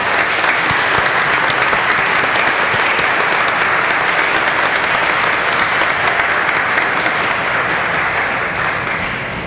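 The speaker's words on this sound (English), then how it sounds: "please join me in giving these folks a round of applause" Sustained audience applause fills a school board meeting room, a dense, even wash of many hands clapping at steady loudness throughout, with no talking.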